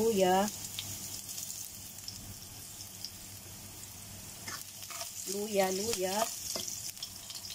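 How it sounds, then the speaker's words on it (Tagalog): Ginger sautéing in a frying pan, a steady close sizzle with spatula stirring, while a voice speaks in short bursts over it. "Ayan, magigisa tayo ng luya."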